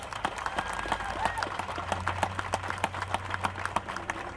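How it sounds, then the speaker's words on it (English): Audience applause at Cincinnati City Hall, a crowd clapping steadily with dense, sharp claps continuing for several seconds at moderate distance. "so we can give the Trailblazers in this fight, long-standing, ongoing fight, a round of applause"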